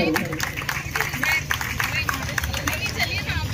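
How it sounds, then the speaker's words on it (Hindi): An audience at a Bharthari folk music event in Bhatapara claps to welcome arriving guests, a dense patter of applause with crowd murmur running throughout. "पर जोरदार ताली के साथ स्वागत करूं"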